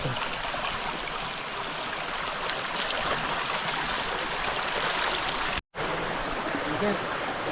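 River water flows in a steady, continuous rush with close splashing and gurgling at a night-time crab-hunting spot, broken by a brief dropout near the end.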